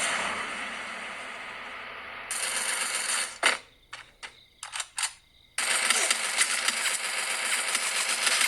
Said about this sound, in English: Here I got a tuk-tuk. Let's drive.